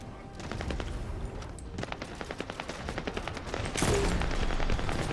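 Automatic scout rifle from The First Descendant firing in sustained rapid bursts, dense crackling shots packed closely together, loud and close, growing heavier near the end, with no talking.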